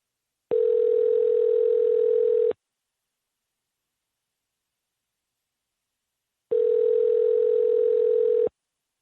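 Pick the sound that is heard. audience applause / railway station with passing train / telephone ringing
telephone ringing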